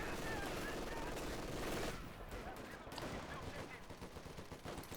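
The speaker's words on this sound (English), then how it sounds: "MG doing some damage for the first time in the match" Machine gun bursts in Company of Heroes 2, loud rapid fire for the first two seconds, then quieter scattered shots and battle noise, with talk over it.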